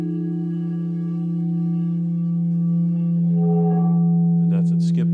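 A vibrating quartz instrument, likely a crystal singing bowl, holds a loud steady tone with strong harmonics, then stutters and skips near the end as it is played too fast over a small bubble.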